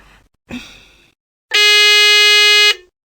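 A phone-triggered quiz buzzer gives a single loud, flat electronic blare lasting about a second, clear and close. It follows a short breathy noise and then quiet.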